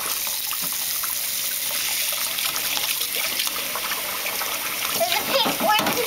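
Water runs steadily into a toy water play tub, a continuous hissing splash with faint bubbling and small splashes near the end.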